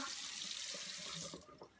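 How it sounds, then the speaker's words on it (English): Tap water runs steadily into a sink as a face is rinsed with lukewarm water, a continuous close splashing hiss that thins out near the end. "Just rinse your face clean, rinse off all the residue"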